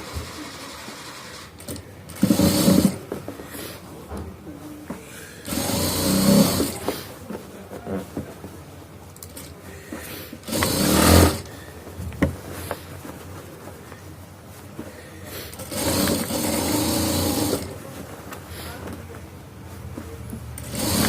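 A sewing machine stitches a shirt in several bursts of a few seconds each, with quieter handling and pauses between them.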